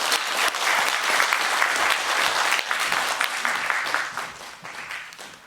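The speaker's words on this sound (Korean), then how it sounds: "큰 박수 부탁드립니다." An indoor lecture audience gives sustained, steady applause, many hands clapping together at even loudness throughout, welcoming a guest speaker.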